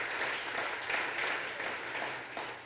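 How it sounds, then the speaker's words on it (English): A college staff meeting audience claps, a sustained even round of applause from a mid-sized group, moderately loud and without talk. "Give yourself a round of applause"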